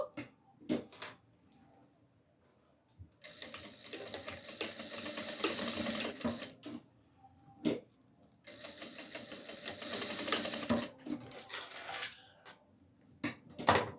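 Sewing machine backstitching an elastic strip onto a small fabric hat for a rag doll, running in two sustained bursts of rapid stitching with short clicks and handling noises between them, close and fairly quiet.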